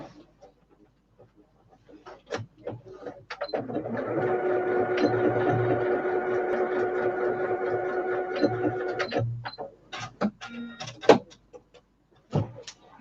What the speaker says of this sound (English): And all I did was straight stitch, and that is sewn.